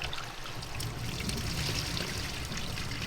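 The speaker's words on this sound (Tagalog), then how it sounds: "Alam nyo kung bakit running water yan." Cold spring water flows continuously from a mountain spring in Infanta, Quezon, a steady close splashing and trickling that is soft in level, with no voices.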